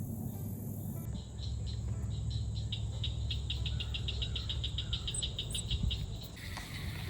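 A steady, pulsing chorus of cicadas fills the night air in the woods, rhythmic trilling repeating over a low rumbling background, with no voices.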